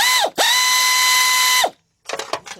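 A power ratchet loosens a bolt on the oil dipstick bracket of a Cadillac/Oldsmobile/Pontiac engine during a water pump repair, giving a close, loud whirring buzz for over a second, then a short burst of rattling clicks.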